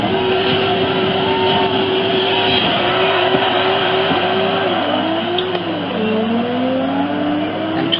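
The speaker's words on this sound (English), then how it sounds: "And twin turbos kicking in, and that's big exhaust." A twin-turbocharged car engine in the Forza Horizon racing game drones steadily under load, its pitch climbing and shifting through gears with a big exhaust note, continuous and prominent with no voices.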